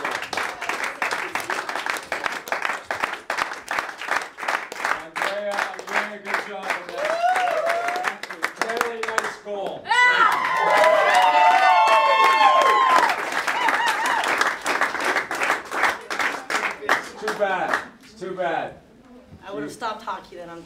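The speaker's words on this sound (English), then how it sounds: "Hey, I want to applaud you." Hockey players clapping and cheering in a locker room during the 2022 Women's World Championship, Switzerland versus Canada, with rapid claps, whoops and shouts layered under loud talking and excited voices throughout.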